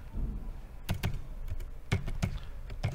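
Keystrokes on a computer keyboard while entering Python code, a quick irregular run of sharp clicks in small clusters, fairly close and alone without speech.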